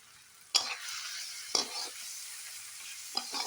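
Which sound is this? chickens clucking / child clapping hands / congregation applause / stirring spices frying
stirring spices frying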